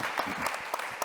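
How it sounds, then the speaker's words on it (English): Audience applause for a panel at a European defence technology conference, a steady patter of clapping from a crowd, fairly distant and even throughout with a few sharper claps standing out. "Please give a warm round of applause for this panel."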